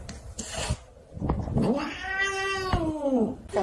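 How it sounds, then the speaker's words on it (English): A cat caterwauls and meows in a few close, loud, drawn-out wails, the last one long and rising then falling, with some background noise between the calls. "What is wrong with that cat?"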